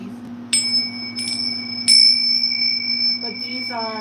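Small Tibetan bells ring out clearly several times, each strike leaving a bright sustained tone over a low steady hum, with a softer jingle of chimes near the end.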